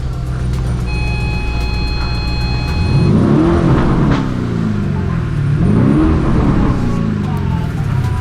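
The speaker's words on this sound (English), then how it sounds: "Let me rev it. Listen to this." A 2020 Lamborghini Urus 4.0 twin-turbo V8 idles with a deep rumble, then revs up twice in rising surges, loud and close, with no one talking.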